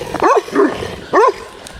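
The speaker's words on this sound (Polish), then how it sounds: "Że mnie te psy nie zeżarły" Dogs barking outdoors, three sharp, loud barks in quick succession, close by, with no talk.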